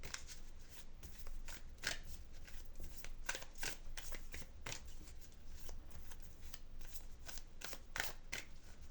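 Close, quiet shuffling of a deck of oracle cards, a rapid, steady riffle of soft papery flicks and slaps that continues throughout with no voices.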